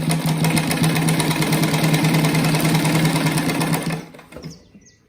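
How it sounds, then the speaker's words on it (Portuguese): A sewing machine runs steadily stitching a round patchwork rug from fabric scraps, a continuous mechanical hum with rapid needle rhythm for about four seconds before stopping, close and fairly loud. "Aqui tem que costurar bem devagar, pra fazer uma costura bem retinha."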